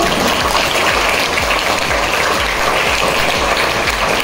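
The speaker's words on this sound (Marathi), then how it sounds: "त्यांचे जोरदार टाळ्या वाजवून आपण त्यांना अभिनंदन करूया." A teachers' day audience applauds loudly and continuously to congratulate a professor, a dense, even roar of many hands clapping close by with no pause throughout.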